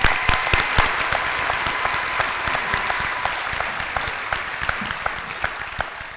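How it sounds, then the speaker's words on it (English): A commencement crowd applauds its graduates with a dense, sustained round of clapping that slowly eases off, with sharp individual claps standing out. "Can we give them another round of applause"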